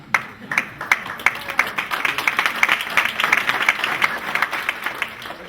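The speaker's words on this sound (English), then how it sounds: "That's a tepid round of applause for someone who went to UT." Tepid applause from a luncheon audience at an economic outlook event, a modest, uneven spatter of claps held at moderate level for several seconds.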